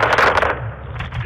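AC-130 gunship fire in Call of Duty Modern Warfare 2, a loud rapid burst of heavy rounds with cracking impacts that fades into a lower rumbling tail.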